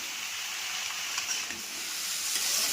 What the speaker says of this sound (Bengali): ভালোভাবে নেড়ে চেড়ে সব সবজি ভেজে নেব।